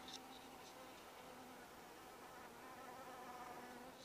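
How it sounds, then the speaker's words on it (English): Faint buzzing of bees drifting past to drink water in a quiet outdoor setting beside a bandmill sawmill, with soft intermittent hums over low background noise. "We got a few straggler bees coming by to get a drink of water."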